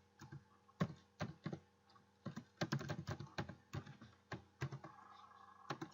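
Typing on a computer keyboard while entering basic HTML code, a quiet, irregular run of distinct key clicks with short pauses and small bursts, heard alone at close range.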